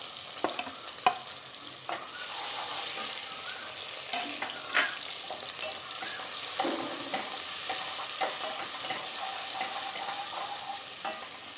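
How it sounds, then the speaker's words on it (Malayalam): Onion and tomato sizzle in hot oil in a pan for a Bengali-style mustard fish curry, with a steady close frying hiss and occasional scrapes and knocks from stirring, and no speech. "നന്നായിട്ട് എന്നിട്ട് വഴറ്റുക."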